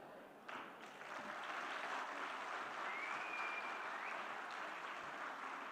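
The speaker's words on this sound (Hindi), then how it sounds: "इस उत्कृष्ट प्रदर्शन के लिए, नृत्य के प्रदर्शन के लिए ये तालियों की गूंज बहुत कम थी।" Audience applause after a Dhaar Talvaar Raas dance performance by a Porbandar troupe at the Virasat 2023 festival in Dehradun, a steady wash of fairly distant clapping that holds evenly for several seconds without speech.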